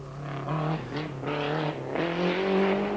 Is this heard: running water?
no